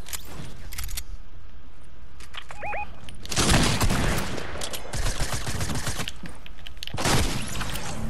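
Gunfire in a shooting video game: bursts of rapid shots in clusters, loud and close, with quieter clicks and mechanical noises between bursts and no talking.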